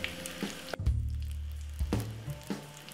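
Jamaican boiled dumplings frying in hot oil, a close, continuous sizzle with crackles and a few brief louder pops, no talk.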